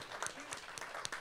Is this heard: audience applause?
yes